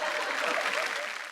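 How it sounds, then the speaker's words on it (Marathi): A television audience breaks into a short, loud burst of clapping, dense and close, fading slightly toward the end. "जोरदार टाळ्या वाजवा"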